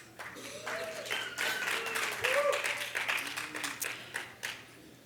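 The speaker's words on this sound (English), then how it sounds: "Put your hands up if you do, or clap or make some noise." Scattered audience clapping at a keynote event, mixed with voices and cheering from the crowd, building for a few seconds then thinning into sporadic claps.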